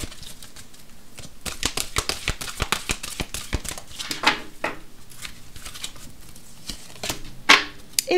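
Oracle cards shuffled and then cut during a card reading, a close rapid riffling patter of flicking card edges with a few louder snaps, continuous for several seconds with no talking.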